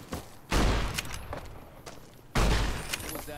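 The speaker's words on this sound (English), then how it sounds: "This shotgun is ridiculous! I love this shotgun!" Shotgun blasts in the video game Fallout New Vegas: two loud, booming shots about two seconds apart, each with a rumbling tail and faint clattering between them.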